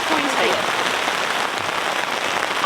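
Heavy rain drums steadily on a tent awning during car camping with a big tent, a loud, continuous hiss of dense drops close by.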